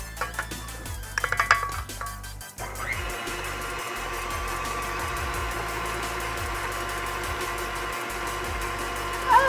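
Cupcake batter being mixed after oil is poured in, a steady mechanical whir of a mixer running continuously and loud through most of the stretch, preceded by a few clinks and bumps.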